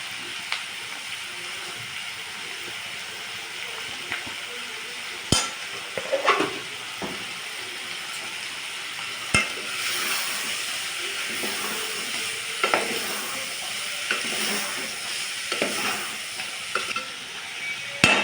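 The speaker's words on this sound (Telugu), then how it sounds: "ఒక స్పూన్ కారం వేసుకొని కలుపుకోవాలి." A frying curry is stirred in a pan with a spoon just after chili powder goes in, giving steady sizzling with scrapes and clinks of the spoon against the pan, close and continuous with no talk.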